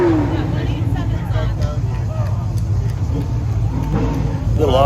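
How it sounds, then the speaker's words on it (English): An autocross car making its run at Sonoma Raceway during a Shelby club event, its engine rumbling loudly and revving under steady crowd chatter and nearby voices. "Little autocross action for you."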